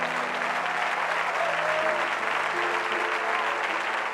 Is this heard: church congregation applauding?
yes